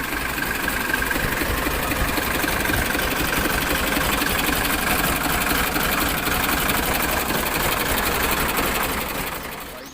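A 1984 Ford 4610 tractor engine idles close by, giving a steady rapid diesel chatter with a low knocking rumble that holds evenly throughout.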